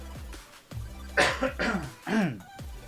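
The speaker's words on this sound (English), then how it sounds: "I'm gonna have to cough again" A person with a weeks-long itchy throat gives a few close, short coughs and throat-clearing bursts in quick succession, with no words spoken.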